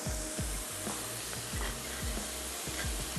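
Shredded boiled beef frying in a tablespoon of oil, a steady close sizzle with repeated scraping stirs and clinks of a utensil against the pan.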